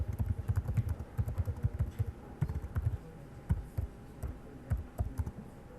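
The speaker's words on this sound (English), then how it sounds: "now I have to type in the question" Rapid, uneven clicking of computer keys as a question is typed in, close and moderately soft, with brief pauses between bursts and no talking.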